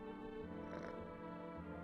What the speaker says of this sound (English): Can I pet the cat? I can talk to the cat.